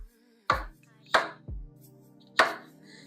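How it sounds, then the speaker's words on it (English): Boiled sweet potatoes are chopped with four distinct knife strikes on a board, each a sharp, close thud with a short tail. A faint tonal hum sits underneath. "our sweet potatoes, which are super easy to chop up now because we boiled them"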